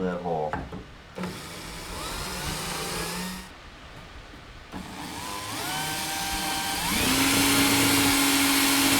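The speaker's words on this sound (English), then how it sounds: "and drill that hole." A power drill boring a hole through a part for a Skybolt powered paraglider frame, running in several bursts with rising and falling whine, a steady high-pitched spin near the end, close and loud.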